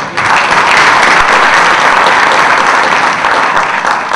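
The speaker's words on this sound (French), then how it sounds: "J'aimerais vraiment qu'on l'applaudisse très fort." Loud, sustained applause from a seminar audience at a digitalisation conference in Africa, a dense, steady wash of many hands clapping close by for the whole stretch without letup.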